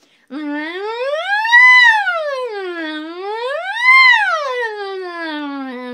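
A singing student's voice imitates an ambulance siren as a vocal warm-up, sliding smoothly up and down in two long rising-and-falling sweeps, steady and clear with no other sounds.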